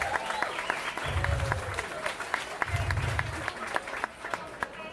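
Audience applause welcoming Whataburger at an airport opening ceremony: steady crowd clapping runs throughout, with a few sharper individual claps standing out and low bursts of background voices or noise underneath.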